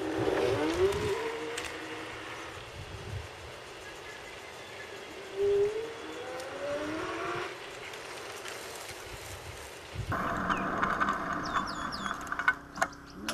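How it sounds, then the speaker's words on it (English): An electric handcycle on a neighborhood shopping ride, with a whining motor that rises and falls in pitch, steady wind and road rumble, and a clattering, busier stretch near the end. "You want to take a ride with me on the electric hand cycle?"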